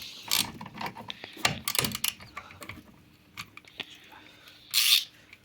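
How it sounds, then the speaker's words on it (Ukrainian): A 7 mm hex key breaking loose a rear brake caliper bolt on a Mazda 3: a series of sharp metallic clicks and scrapes, close and irregular, with a brief louder clatter near the end. "Беремо шестигранник на 7, по-моєму, вставляємо і зриваємо."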